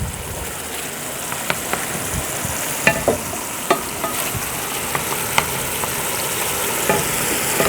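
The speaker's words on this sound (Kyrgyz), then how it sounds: "биз пиязды кууруп алат экенбиз томат менен" Onions frying with tomato in a pan for manti sauce, a steady broadband sizzle with scattered crackles and pops close by, no voices.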